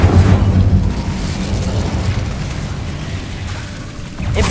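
A fire spell cast in the game Hogwarts Legacy bursts with a loud whooshing blast at the start, then a rumbling, crackling roar that slowly fades before a fresh surge at the end.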